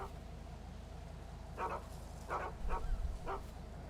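A dog in a video game barks four times in a quiet, irregular series over a low background hum, fairly faint and distant.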